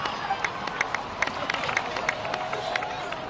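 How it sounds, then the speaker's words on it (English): A crowd in a Genshin Impact Natlan cutscene breaks into applause and cheering: a dense patter of claps with sharp individual slaps and a babble of voices, steady and moderately loud throughout. "please give another round of applause for them"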